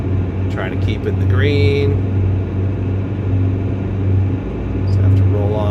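A helicopter's engine and rotor drone steadily as power is rolled in during basic flight maneuvers, a constant low hum throughout while a pilot talks over it.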